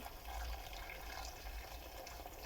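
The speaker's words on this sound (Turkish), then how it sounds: "dolduracak kadar su ekliyorum." Water poured from a container into a pan over lamb chops in tomato paste sauce, a soft, steady low gurgling splash, faint and continuous without voices.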